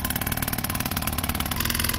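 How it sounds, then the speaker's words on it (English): A backup outboard motor on a refurbished free speedboat runs steadily, its close, loud engine drone holding an even, throbbing idle with no voices over it. "we got backup engine number one running now"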